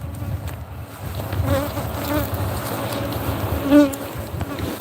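Bees swarming right around a person standing in a yard in front of a trailer, a dense, close buzzing drone throughout, with individual bees whining loudly as they pass near.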